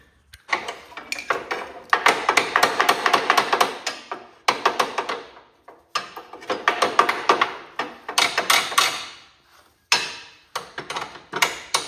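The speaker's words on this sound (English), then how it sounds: "took a hammer and it pounded right out" A hammer pounds a cotter pin from the brake rod of a Cub Cadet garden tractor, sharp metallic taps in quick bursts with short pauses, close and fairly loud.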